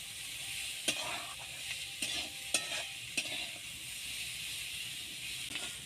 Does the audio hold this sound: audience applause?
no